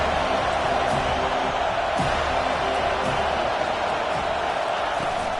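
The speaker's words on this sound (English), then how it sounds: "Decibels rising as the crowd gets behind this defense on 3rd down" A football stadium crowd roars behind the home defense on third down in a Boston College game, a loud sustained wash of cheering and noise with no breaks.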